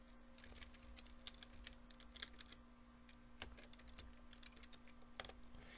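Typing on a computer keyboard while writing Python code, a steady run of close, crisp key clicks with occasional louder taps over a low, constant hum.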